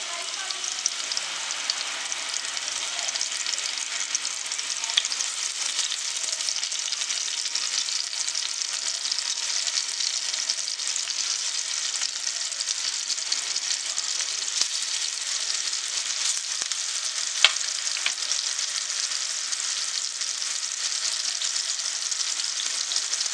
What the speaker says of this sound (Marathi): त्याच्यामध्ये आपण जे मसाले लावलेले फ्राय आहे मच्छी आहे ती आपण तळून घेऊया